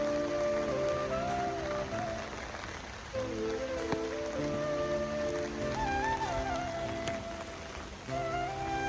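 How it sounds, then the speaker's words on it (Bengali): Rain falls steadily across a village, a continuous soft patter on surfaces that runs unbroken, with musical tones playing over it throughout. "দেখো বৃষ্টি পড়ছে"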